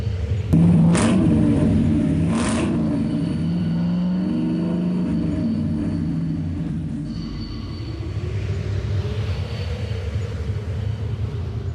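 Heavy engines rumble loudly and steadily, with a couple of sharp bangs at the start, then a long sustained roar that slowly fades and shifts.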